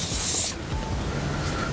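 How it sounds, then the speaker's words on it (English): A small mini setting spray bottle gives one short, close, loud hissing spritz lasting about half a second, followed by quiet room tone. "just like a mini setting spray. Let's see what it smells like."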